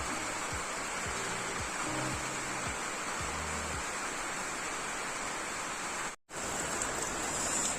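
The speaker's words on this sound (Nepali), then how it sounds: "अब यस्तो पानी परिरहेछ" Steady, dense rain hisses continuously on a trek toward Koribhanjyang, close and loud, with a few low thumps early on and a momentary dropout near the end.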